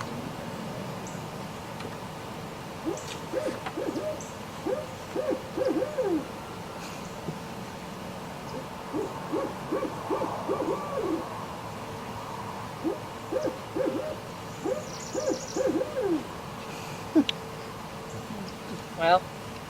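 A recorded owl hooting call plays during an outdoor park program, giving repeated short rhythmic hoots in bursts at low to moderate volume over steady background hum, with faint insect buzzing.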